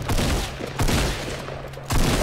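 Rapid sustained minigun fire in the Fortnite battle royale video game, a dense continuous rattle of shots with brief swells, loud and close with no talk over it.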